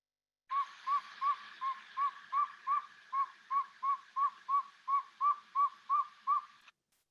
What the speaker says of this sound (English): The saw-whet owl call is just a steady, monotonous toot, almost sounds like a truck backing up.